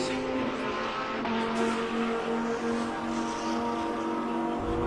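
Race cars at the East London Grand Prix circuit in a SAGTRA race, coming out of a corner into the S-bend complex beside the karting track, with a steady, sustained engine drone and harmonic whine at moderate distance.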